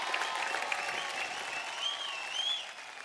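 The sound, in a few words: audience applause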